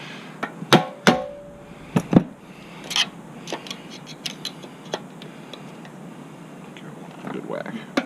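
Sharp metallic hammer jabs strike a pin on a Predator 212cc small engine governor, several separate close knocks in an irregular rhythm with quieter clicks and handling noise between them.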